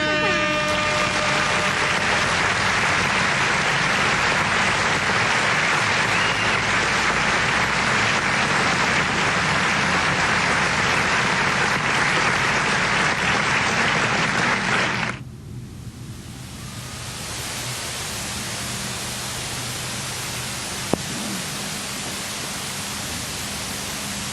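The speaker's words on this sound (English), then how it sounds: "Give him a round of applause, folks." Speedway crowd at Carina Speedway applauding a new Queensland Late Models champion on his reverse victory lap with the checkered flag; a dense, loud wash of clapping and cheering that drops to a steady quieter roar partway through.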